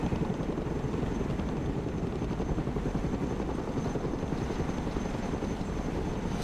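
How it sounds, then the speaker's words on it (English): A cargo helicopter in the video game Broken Arrow flies with a steady, dense rotor-and-engine drone that holds at an even level throughout, with no talking. "Let's go and recover it with our helicopter."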